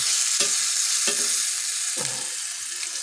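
Plantain slices frying in oil in a pan on a stovetop for a vegan relleno de platano, giving a steady, close sizzle with a few soft scraping clicks from turning them.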